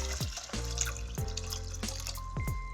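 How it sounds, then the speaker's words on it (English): Water is poured into a small pot holding diced russet potatoes, giving a continuous splashing trickle with repeated bubbling plops close by. "They go right in to a little pot. We'll cover with water"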